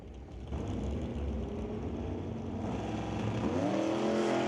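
A convertible Dodge Dart GTS drag race car's engine roars at an NHRA drag strip, holding a loud, steady rumble and then climbing in pitch as it revs, with no voices.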